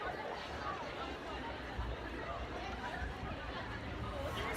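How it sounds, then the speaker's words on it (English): Crowd at a concert: a steady, dense hubbub of many voices chattering at once, moderately distant and without a single clear speaker. "this is what the crowd is looking like"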